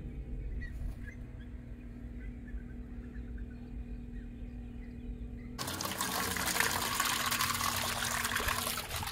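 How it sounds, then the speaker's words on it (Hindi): Water being poured out for pet birds, a faint trickle at first that turns into a louder, steady splashing pour partway through, heard close with no talking. "अरमान अब इनके आगे पानी रखने लगा है"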